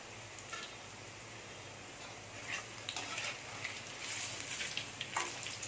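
Vegetarian kola urundai balls fry in hot oil with a soft, steady sizzle and occasional sharper crackles and pops, close by and fairly quiet, no talking.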